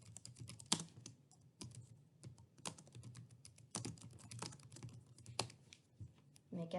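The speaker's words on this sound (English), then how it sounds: "we type the name of the session." Quiet clicking of fingers typing a session name on a computer keyboard, a run of light, irregular keystrokes with a few sharper taps, heard close and alone.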